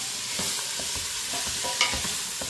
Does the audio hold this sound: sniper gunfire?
no